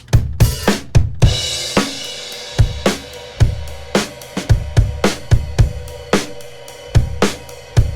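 Quiet section of an indie band take, captured on just four close mics with no room sound and no guitar-amped snare; dry, tight drum hits with kick and snare in a steady pattern under sustained guitar, fairly close and even.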